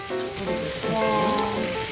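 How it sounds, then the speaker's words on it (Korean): Damyang-style pork ribs sizzle steadily on a hot grill, a dense crackling hiss with faint voices and restaurant murmur underneath. "이게 그 담양식 돼지갈비. 지글지글 소리 미쳤다."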